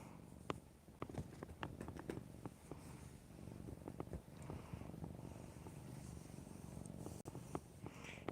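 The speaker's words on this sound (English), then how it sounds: "Got a little purr going on" A tabby cat purrs, a faint, close rumble with irregular soft taps and rustles scattered through it, and no voices.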